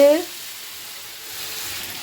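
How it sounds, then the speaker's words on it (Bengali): Thinly sliced potatoes frying in oil in a pan: a soft, even sizzle that hisses steadily after a brief louder start, close and unaccompanied by talk. "আমি ঝিরঝিরি করে গোটগোট করে আলু ভাজা বসিয়ে দিয়েছি"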